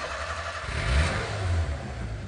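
Engine of a Carver One tilting three-wheeler starting and revving, a mid-pitched motor that rises and settles through a couple of short throttle blips, heard close and alone.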